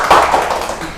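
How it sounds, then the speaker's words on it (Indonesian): Applause for students in a classroom, a brief patter of claps from a small group, close and fairly loud, fading within a second. "Tepuk tangan untuk semuanya."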